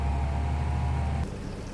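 A tractor in Farming Simulator 25 idles with a steady, low engine hum and drone, then drops quieter and thinner as the sound cuts off partway through.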